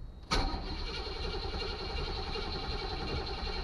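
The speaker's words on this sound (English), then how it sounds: "Key on. Let's try cranking." A 1984 two-door Chevy Caprice's engine cranks after sitting, a sharp start followed by a steady, loud churning drone of the starter spinning the engine over, close and continuous with no talk.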